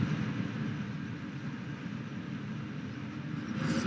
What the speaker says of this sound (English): Fire up the engines. Full throttle.